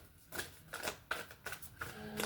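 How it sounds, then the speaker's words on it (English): Cards are riffled and shuffled in several quick, crisp bursts, close by and fairly quiet, with soft pauses between each pass. "Make sure I shuffle real good."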